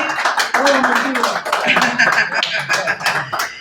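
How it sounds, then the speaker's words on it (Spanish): Audience at an in-person talk on artificial intelligence applauds a conference speaker, a steady wash of clapping with voices talking over it throughout. "un aplauso para el compañero Jorge"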